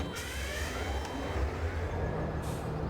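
A low, steady engine rumble with a hiss of air and a couple of brief higher bursts, like a heavy diesel locomotive starting up and idling, from a train in Farming Simulator 2017.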